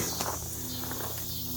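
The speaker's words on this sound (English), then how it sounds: "The cicadas and the trees are going crazy." Cicadas buzz steadily in trees outside a shop, a continuous high shimmering drone at moderate distance, with a few faint rustles and footsteps close by.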